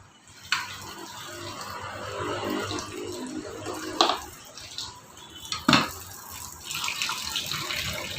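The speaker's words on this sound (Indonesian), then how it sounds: "terus ini kita kasih air lagi" Water splashes into a metal pot while preparing sambal tumpang from overripe tempeh, a steady rushing pour with a few sharp clanks of the pot, heard up close with no talking.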